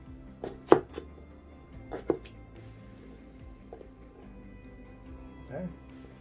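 A knife slices potatoes on a cutting board in a home kitchen, giving a few sharp, separate chops spaced irregularly with quiet gaps between them.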